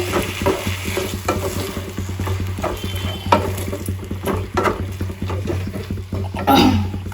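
Mushrooms are stirred in a frying pan, with a spoon scraping and turning them in rhythmic strokes over a constant sizzle of frying oil, close and clear.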